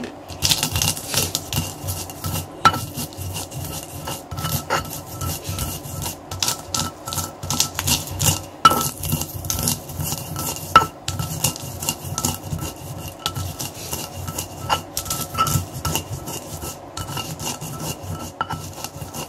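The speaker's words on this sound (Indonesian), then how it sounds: "mungkin tidak kuat untuk mengulek atau menghaluskan kacang dengan cara manual" Continuous gritty rubbing and scraping as peanuts are ground in a mortar and pestle, steady and close, with rhythmic grinding strokes and occasional clacks, no voices.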